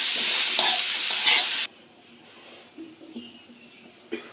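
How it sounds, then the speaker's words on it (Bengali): Potatoes and chopped onions sizzle loudly in a pan while being stirred, then the frying noise abruptly drops to a low, quieter crackle with a few faint scrapes and taps. "আলুর সাথে পেঁয়াজ কুচিগুলোও দিয়ে দিলাম,"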